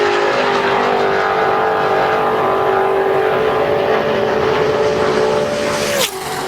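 A Front Row Motorsports Chevy NASCAR Nationwide car driven by Tony Raines roars steadily through a qualifying lap at Daytona, its engine a loud sustained drone that holds pitch, then drops sharply near the end as it passes.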